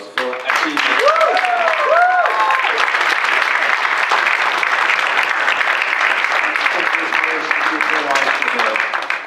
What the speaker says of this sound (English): Please join me in giving Arya a resounding round of applause for achievement.